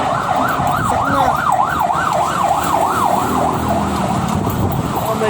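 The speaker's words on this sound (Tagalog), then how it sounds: "Ito mga ambulansya." An ambulance siren sounds on a road in the Manila area, a loud, rapid wail rising and falling repeatedly over steady traffic noise.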